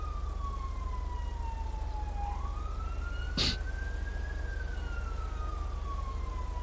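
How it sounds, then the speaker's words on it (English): A police siren in a video game set in Los Santos wails steadily, its pitch slowly sliding down then up, over a constant low engine drone, with a short sharp burst midway. "I hear a siren."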